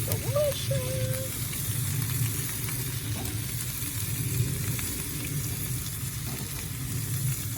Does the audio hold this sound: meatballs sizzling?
yes